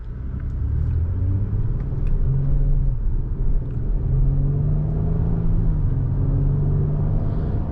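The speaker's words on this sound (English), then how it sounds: "V6 just has such smooth torque, really nice sound, really elegant power delivery." A 2024 Acura MDX Technology SH-AWD V6 accelerates on the road, a smooth, steady low engine rumble with rising tones and continuous road noise inside the cabin.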